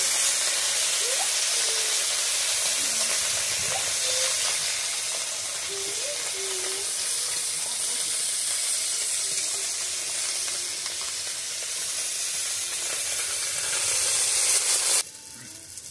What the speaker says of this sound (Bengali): মাছটা একটু উল্টিয়ে দিতে হবে, একটু কড়া করেই ভাজতে হবে।